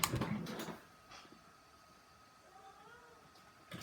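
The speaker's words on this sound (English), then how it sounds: "And now my cat wants out of my room." A house cat meowing to be let out of a room, a couple of short meows at the start, then quiet room tone with faint faint sounds, and another brief meow at the end.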